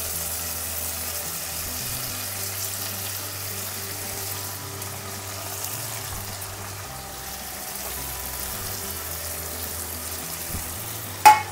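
Greens, potatoes and onions fry in a pan, a steady low sizzle with faint stirring under a constant background hum, ending in a brief sharp clink.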